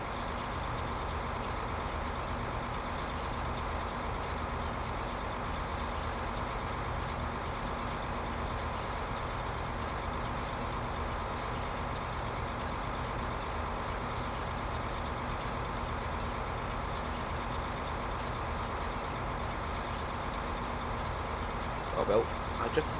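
Tractor engine in Farming Simulator 2015, a steady continuous drone and rumble running throughout at constant level, with a few brief clicks near the end.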